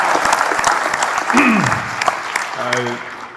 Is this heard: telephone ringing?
no